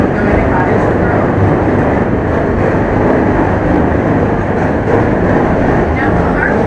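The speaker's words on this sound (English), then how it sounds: "That's the green line going to Cottage Grove." Chicago elevated L train on the Green Line rumbling overhead, heard from a downtown canal boat as a loud, steady broadband roar that lasts throughout, with traffic and city noise mixed in and some speech-like sound under it.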